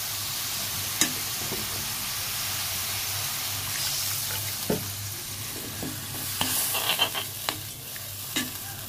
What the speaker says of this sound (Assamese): এতিয়া উতলিছে, পিঁয়াজখিনি পানীখিনি উতলিছে